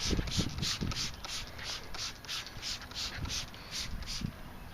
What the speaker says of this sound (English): and then rubbing it off with the towel